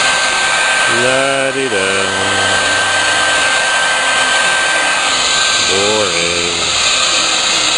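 A heat gun shrinks thin heat-shrink tubing, giving a steady, loud whooshing roar of hot air that runs without a break, while a voice speaks briefly over it.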